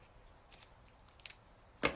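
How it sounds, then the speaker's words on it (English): Scissors trimming the points off a small paper piece for a craft project: three crisp, separate snips spaced out over a quiet background, the last one the loudest. "It might not hurt me to trim it a little bit. Trim those points off."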